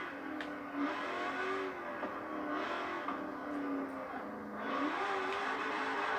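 An 850-horsepower car in Forza Horizon 4 revs hard and steadily, its engine note rising and falling as it accelerates, loud and close, with whirring tire sounds and no talking.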